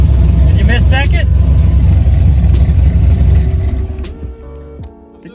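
Ford Mustang Foxbody with a manual gearbox driving, a loud steady engine drone heard from inside the car that drops away as a gear shift is missed, with people talking over it.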